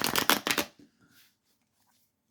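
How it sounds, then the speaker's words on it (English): Tarot cards shuffled close by in a quick, crisp riffle lasting under a second, followed by near silence and a few soft handling sounds. "I'm going to shuffle the cards and ask my angels and spirit guides"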